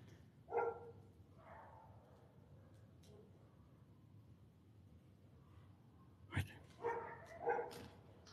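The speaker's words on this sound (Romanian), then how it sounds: "Ei, sunt câini." Dogs barking in the distance around an abandoned apartment block, with a couple of sharp bark bursts at the start and a cluster of several barks near the end, faint against a quiet background.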